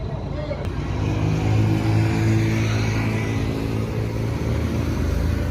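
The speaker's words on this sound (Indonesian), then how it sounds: "Bus Mior tronton sudah mundur, ini pertanda akan segera berangkat menuju Jakarta" Engine of a Mior tronton intercity bus reversing before departing Pariaman for Jakarta, a steady low diesel drone with a slight swell in the middle, continuous and fairly close, with a faint voice mixed in.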